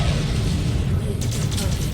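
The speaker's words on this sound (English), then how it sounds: "The reactor is going critical." A mech's reactor blows in MechWarrior 5: Clans, a loud, sustained rumbling boom that fills the whole clip, with a brief crackling burst near the end.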